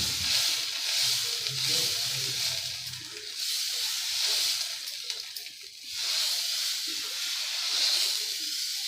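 Dosa batter fries on a hot pan in a steady, close sizzle and hiss that swells and eases in waves, with no talk over it.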